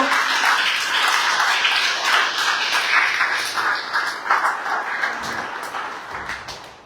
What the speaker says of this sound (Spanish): ¿Le puedes dar un aplauso al Señor si tú lo crees conmigo?